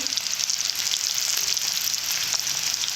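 Potatoes and carrots fry in a wok-style pan with turmeric, giving a steady, close hiss of sizzling oil that holds throughout with faint stirring scrapes underneath.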